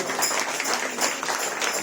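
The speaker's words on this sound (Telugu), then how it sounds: "చప్పట్లు కొట్టండి గట్టిగా" A church congregation claps loudly together, a dense, continuous patter of many hands that stays even throughout, heard from within the crowd.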